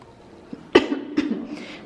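A person coughs twice in quick succession, close and fairly loud, with a small breathy sound just before.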